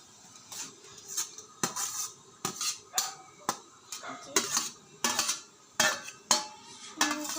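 Papaya pieces tumble into melted sugar in a pan and get stirred with a spoon, giving a run of irregular metallic scrapes and clanks against the cookware, fairly close, with brief quiet gaps between strokes.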